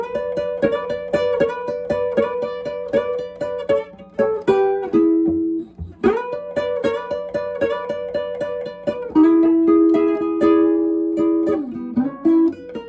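A complete Chicago blues lick plays on electric guitar, quick repeated picked notes with bends and hammer-ons resolving into held, ringing tones, played up close and unaccompanied.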